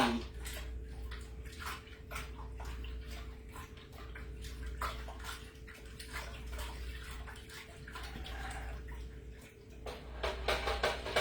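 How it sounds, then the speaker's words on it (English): Mead must being sloshed and mixed in a container to add oxygen, a steady watery churning and splashing with continuous low rumble, fairly close, alone without talk. "I don't know if you can hear me sloshing. but I am sloshing because I want oxygen."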